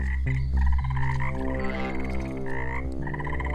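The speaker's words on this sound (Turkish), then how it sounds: "Burada var ya deli gibi kurbağa var." Dense chorus of frogs croaking continuously among many baby frogs at a pond or wetland, with overlapping repeated calls, loud and close, no talking.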